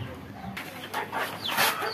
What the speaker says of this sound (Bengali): এই যে দেখুন মুরগিগুলো এই জায়গাতে খাচ্ছে